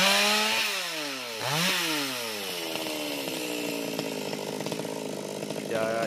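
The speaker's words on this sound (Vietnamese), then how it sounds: "Chú kéo cái máy cưa lên nữa" A chainsaw revs and bogs down repeatedly while cutting into a jackfruit tree, loud and close, pitch rising and falling with each pass.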